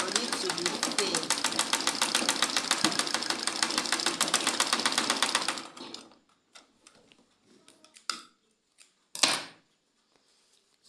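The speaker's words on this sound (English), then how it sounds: "There's a need to back stitch it over and over again for it to be thin." A sewing machine back-stitches an elastic band in a fast, even run of mechanical ticks for about six seconds, then stops, leaving a few faint handling clicks.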